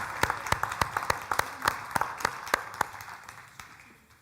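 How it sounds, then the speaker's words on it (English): Audience applause at a Black History Month community event: a small group clapping, with sharp, distinct claps close by in a loose, uneven rhythm that thins out and fades toward the end. "let's give them another round of applause"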